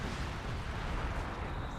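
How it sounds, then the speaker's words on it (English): Artillery barrage in a British-faction 3v3 video game battle, a dense, continuous low rumble of overlapping booms and blasts that stays loud and steady throughout. "Just put some more arty down."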